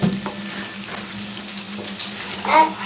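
Broiler chicken meat sizzles steadily in a pan while a spoon stirs it now and then, giving soft scraping bursts over a constant close frying hiss, with no talking.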